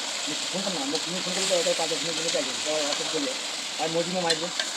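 Meat cooking in a pan at an outdoor picnic gives a constant hissing sizzle heard under people talking close by.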